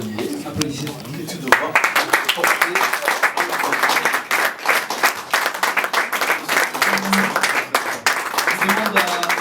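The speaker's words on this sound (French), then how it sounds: "Applaudissez." Sustained applause fills a Rotary Club gala evening in Kigali as a presidential collar is handed over, steady clapping from a sizeable audience with talk and cheering mixed in underneath.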